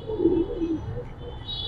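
Giribaz colouring pigeons coo in a loft, with a close, clear pair of warbling phrases followed by softer cooing.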